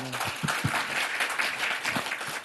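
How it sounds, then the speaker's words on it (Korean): Audience applause for the panel at the end of a Seoul climate-energy conference discussion, a sustained crowd of clapping with a few louder nearby claps standing out. "오늘 수고해주신 패널께 아주 큰 박수 좀 부탁드리겠습니다."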